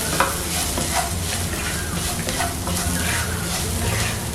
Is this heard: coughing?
no